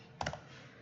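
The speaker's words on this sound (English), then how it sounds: "double click and then type in" A few quick taps on a computer keyboard, close and fairly quiet, a short cluster of three or four keystrokes with no talk.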